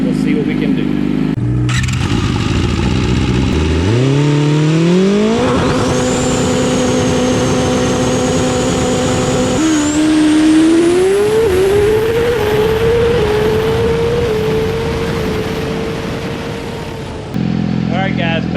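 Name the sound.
Yamaha R6 motorcycle engine revving on dyno, baseline pull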